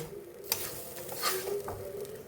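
Onions fry in a small amount of oil for chicken fried rice, giving a steady close sizzle with soft stirring scrapes and a couple of brighter clicks from the spoon against the pan.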